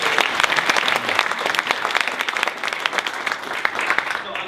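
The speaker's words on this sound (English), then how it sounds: "let's take a second and give all 10 presenters a round of applause" Audience at an education technology presentation event gives steady, dense applause for the presenters, close and fairly loud, continuing for several seconds with faint crowd murmur.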